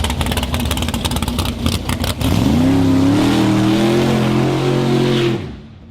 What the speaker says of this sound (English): Kind of a little baby burnout